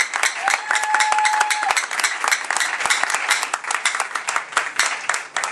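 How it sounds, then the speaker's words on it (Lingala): A church congregation applauds and cheers, with dense, sustained clapping from many hands and a brief high shout or whistle rising over it near the start. "Acclame plus fort pour la gloire du Seigneur Jésus-Christ"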